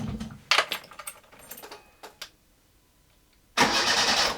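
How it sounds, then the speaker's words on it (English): A Fiat A112 Abarth engine cranks on the starter with no fuel in it, so it never fires. The whirring comes in bursts, followed by a quiet gap and then a louder, sustained stretch near the end. "Hooked up a battery. Let's see if it cranks."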